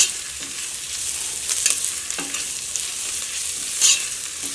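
Onion, ginger and green chili frying in a pan for a beef dish, with a steady sizzle and repeated scraping and stirring strokes of a spoon close by, no talking.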